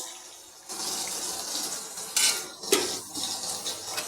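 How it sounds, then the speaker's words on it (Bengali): Water poured into a pan of cauliflower and potato curry with jaggery, a steady hiss-like pour with a few clinks of utensils against the pan, close and moderately loud, no talking. "এবার আমি এখানে একটু গুড় দিয়ে দিলাম আর একটু জল দিয়ে দিচ্ছি"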